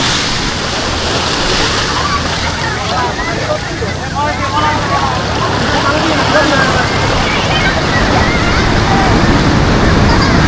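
Big sea waves roll and break on Cox's Bazar beach as a constant, loud rush of surf with wind buffeting the microphone, while a person talks over the roar.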